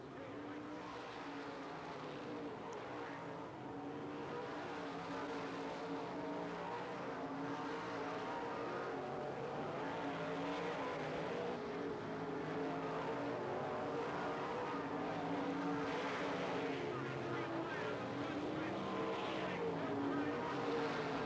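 IMCA-style low-budget modified race cars circle Brewerton Speedway in New York, a dense continuous engine roar from several cars that swells and fades slightly as they lap, heard from a distance.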